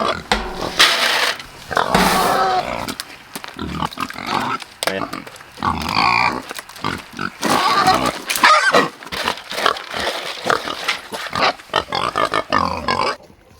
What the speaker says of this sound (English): The pigs will absolutely never complain about having some eggs in their food.